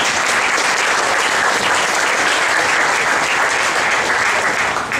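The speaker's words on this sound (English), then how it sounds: "Thanks for the big applause." Steady, dense applause from an audience at an alcohol forum, loud and continuous for several seconds with no talk over it.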